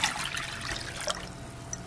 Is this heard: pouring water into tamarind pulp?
yes